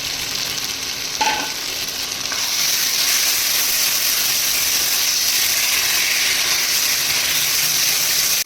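Capsicum and green chillies drop into hot masala in a pan for a Bengali aloo dum: a brief clatter, then a loud, steady sizzle that swells after a couple of seconds and holds with no one speaking.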